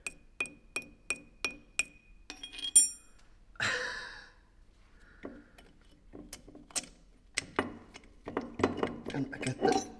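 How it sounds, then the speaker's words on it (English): Bolts are taken out of a hydraulic press tool, a series of sharp metallic clicks and clinks in a quick rhythm, followed by scraping, rattling handling and a burst of jangling metal, close and fairly quiet. "And I get the bolts out. Yep, I take these away."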